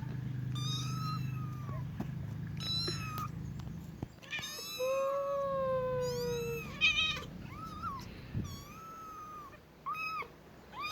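A young kitten meows repeatedly, close and clear, in a string of thin rising and falling cries with brief gaps, while a soft low background hum runs underneath.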